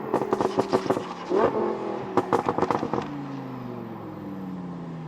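A 130 HP go-kart built around a Corvette bed engine drives on the street, giving rapid crackling pops and revving bursts, then a steady engine drone that slowly falls in pitch.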